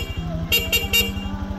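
Three short, thin beeps of a Honda Click V3 scooter's stock horn sound in quick succession over a steady idling engine rumble.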